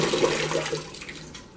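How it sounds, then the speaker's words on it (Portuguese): Water pours steadily into a bucket for mixing cement-based tile adhesive, a continuous rushing, splashing flow heard close up and fairly loud, easing slightly toward the end. "Vamos pôr 5 litros de água."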